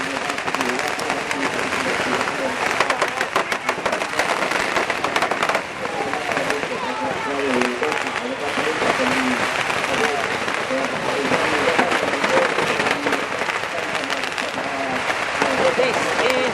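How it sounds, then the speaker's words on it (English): A relentless barrage of firecrackers crackles at a Phuket Vegetarian Festival street parade, dense rapid pops filling the air nonstop with a crowd and someone talking beneath. "Just a barrage of firecrackers going now."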